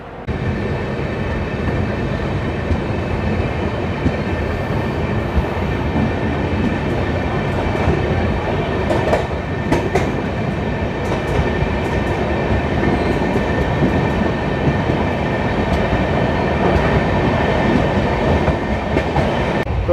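The Kota–Nizamuddin Jan Shatabdi Express rolls along with a constant loud rumble and rattling heard from inside the coach, joined by faint rhythmic clickety-clack of wheels over rail joints throughout.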